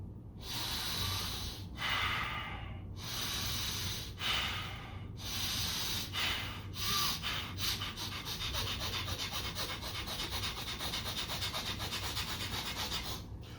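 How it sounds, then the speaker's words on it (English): Someone does a fire breathing exercise, forceful nasal breaths that start slow with distinct separate puffs, then speed up into a rapid, even run of close, loud snorting exhales. "when I do my fire breathing, my belly gets bigger and smaller, slow at first, then it goes faster"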